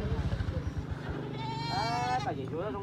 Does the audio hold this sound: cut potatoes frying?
no